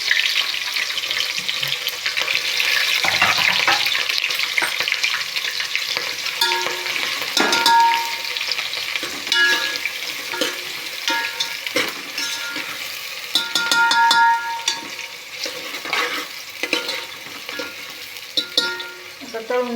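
Onion and green chilli fry in hot masala for chicken biryani, a steady close sizzle and crackle with occasional scrapes and stirring clinks of a spoon against the pan, no voices.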